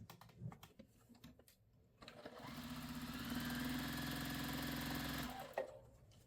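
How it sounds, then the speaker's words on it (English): A sewing machine chain piecing quilt blocks, starting with a few clicks and taps, then a steady mechanical whir running for about three seconds before stopping, close and fairly quiet. "I'm going to sew with a regular stitch length on both sides"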